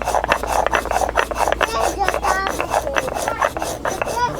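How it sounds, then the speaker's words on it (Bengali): Poppy seeds ground by hand on a stone for Bengali aloo posto, a steady rhythmic rasping and scraping of stone on seed paste, close and continuous with repeated back-and-forth strokes. "এদিকে আমি পোস্তটা বেটে নেব।"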